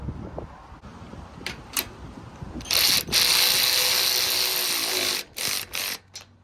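A Hyper Tough 12V cordless ratchet loosens 11mm bolts on a trailer: a few short clicks, then a loud, close motor whir running for a couple of seconds, followed by brief on-off bursts.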